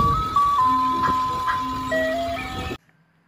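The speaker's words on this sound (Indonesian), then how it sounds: "di sini juga ada mobil es krim atau truk es krim" A toy ice cream truck plays its loud electronic jingle, a bright stepping melody of sustained beeping tones close up, which stops abruptly near the end.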